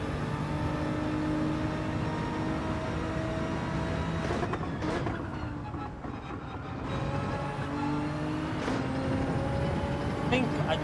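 A Nissan GT-R's engine drones steadily in Gran Turismo 7, holding a continuous loud hum with brief dips as gears change around the middle, no voices over it.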